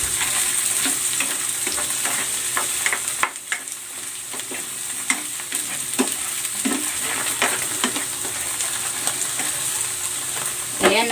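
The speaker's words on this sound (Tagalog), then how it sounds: "Iprito ko din itong chicken franks na hotdog." Chicken frank hotdogs fry in hot oil with a steady, close sizzle, broken by repeated clinks and scrapes of stirring in the pan, with no voices.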